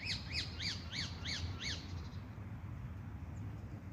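A bird gives a run of five or six quick, squawking calls in steady rhythm in a park in Wandsworth, London, then stops, leaving low outdoor rumble behind.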